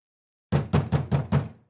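Five quick, evenly spaced knocks on a wooden door after a moment of silence, close and solid, with the last one fading out.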